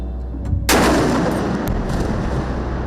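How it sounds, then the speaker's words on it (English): A single heavy explosion in Gaza City, recorded from a high floor of a building, bursts in loud and close and then rolls into a long rumbling decay that fills the rest of the moment. "The press agency broadcast a live feed of explosions in Gaza City."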